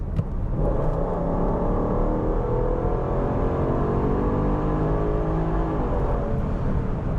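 A 2014 Range Rover Sport with over 100,000 miles accelerates from inside the cabin, its engine note rising steadily in pitch, dropping at a single gear change, then climbing again, loud and continuous with no talk.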